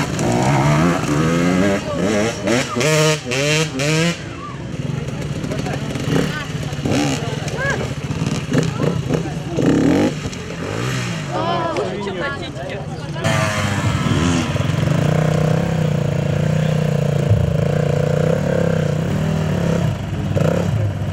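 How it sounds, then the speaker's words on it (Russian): Loud motorcycle engines roar and rev continuously at an outdoor festival at an equestrian club, overlapped by a crowd and voices talking nearby. "Сейчас повсюду слышен рев мотоциклов."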